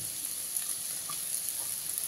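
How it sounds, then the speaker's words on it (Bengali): Small round slices of unpeeled potato fry in hot oil, giving a steady, close hiss and crackle that runs evenly throughout with no voices. "আলুর গায়ে যতক্ষণ না একটু লালচে কালার আসছে ততক্ষণ আপনাদের খুব ভালো করে ভেজে নিতে হবে।"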